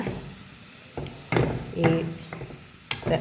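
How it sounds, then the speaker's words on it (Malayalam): Chilli and spices being stirred in a cooking pot, a few scraping, clinking strokes of the spoon against the metal in separate bursts, fairly close and moderately loud with quiet gaps between. "എല്ലാം നന്നായിട്ടൊന്ന് ഇളക്കി കൊടുക്കുക"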